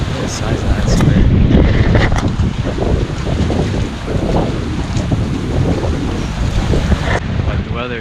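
Strong wind buffets the microphone beside open water near a boat, a loud continuous roar with gusting surges and the wash of waves beneath it, lasting throughout with no speech.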